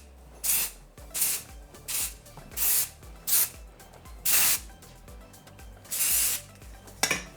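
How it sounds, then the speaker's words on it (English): Living Proof volume hair spray fires in about eight short, forceful hissing bursts at fairly even intervals, aimed at the hair roots during a curling session. Each burst sounds close and bright, with brief quiet gaps between them. "just come in and spray right in the root area"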